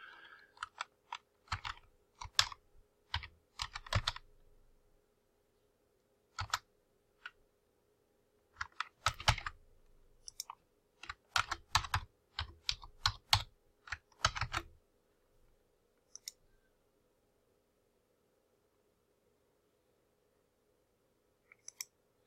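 Keys clatter on a computer keyboard as a new password is entered, short bursts of quick tapping separated by pauses of silence, close and fairly faint over a faint steady hum.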